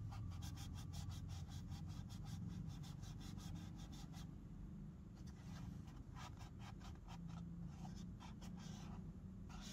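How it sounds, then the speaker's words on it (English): Toilet paper scratched by hand to make a soft scratchy effect for an indie game, close, quiet rhythmic rasping strokes in rapid bursts, pausing briefly midway and then resuming in a looser pattern. "So I thought of getting a toilet paper and scratching it to make a soft"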